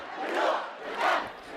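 A protest crowd in Ramallah shouts in two loud surging waves, massed voices swelling and easing with no single speaker standing out.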